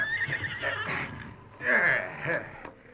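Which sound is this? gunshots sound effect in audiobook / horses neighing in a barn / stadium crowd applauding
horses neighing in a barn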